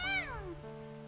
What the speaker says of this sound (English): the kitten meows at us like he's cheering us on